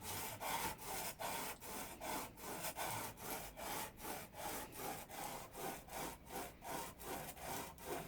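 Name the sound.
edge tool being sharpened on a 400 grit stone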